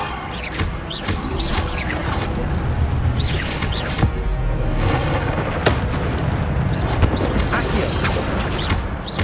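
Incendio fire spell blasts in Hogwarts Legacy land as a string of loud, sharp bursts amid continuous spellcasting combat sounds.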